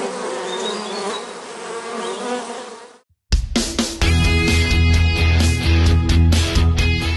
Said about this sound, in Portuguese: A apicultura teve início no país com a introdução de abelhas da espécie Apis mellifera